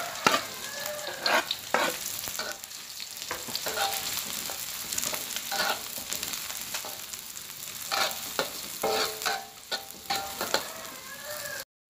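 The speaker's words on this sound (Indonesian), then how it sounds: "sekarang aku mau tumis bawangnya sama bawang merah" Shallots and garlic sauté in hot oil in a pan, a steady close sizzle broken by the scraping clatter of repeated stirring.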